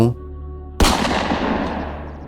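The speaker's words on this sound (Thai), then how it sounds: "กระสุนขนาดจุด 357ที่ถูกยิงในระยะประชิด" A single loud gunshot from a .357 revolver at close range cracks sharply after a brief low hum, then fades into a short echoing decay.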